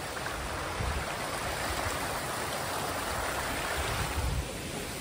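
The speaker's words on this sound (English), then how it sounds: "Another one of these little streams that comes down." Small silty stream flowing downhill toward a river, a steady close rush and burble of water that fills the whole stretch evenly, with no voices.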